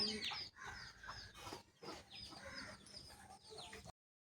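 Hens cluck repeatedly in a home garden near flowering plants and tomato and mango trees, a busy run of close, fairly loud calls with brief gaps and no talk.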